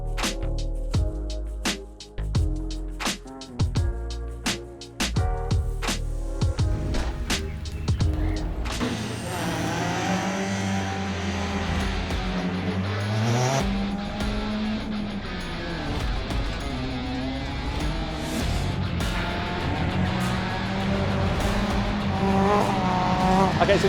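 A rallycross car heads out for practice laps at the Knockhill circuit, first a few sharp knocks and clanks, then a loud, sustained engine roar rising and falling through the gears, close and dominant.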